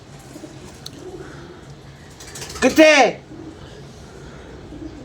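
A pigeon gives a short, rolling coo in the middle, close and fairly loud against a low murmur of voices and background noise.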